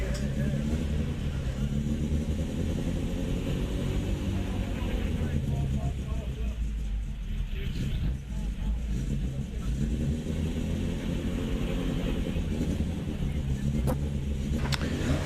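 Mini Cooper race cars revving hard at the Prescott hill climb during a Mini festival, a loud sustained engine roar with rising and falling revs throughout, a commentator talking over it.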